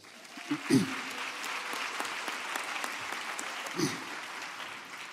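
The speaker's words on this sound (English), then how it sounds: "can you give a round of applause to our academics?" Moderate applause ripples through a university graduation ceremony audience, honouring academics, with a couple of brief voice calls over the steady clapping.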